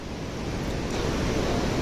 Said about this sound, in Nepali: यो रघुगङ्गा खोला यताबाट बगेर आएर काली गण्डकीमा गएर मिसिएको छ